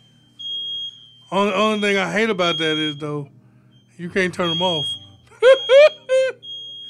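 A hardwired, interconnected smoke alarm upstairs gives a thin, steady high tone that runs faintly behind people talking nearby in a house.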